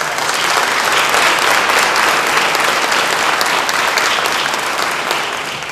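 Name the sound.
audience applause at teacher awards banquet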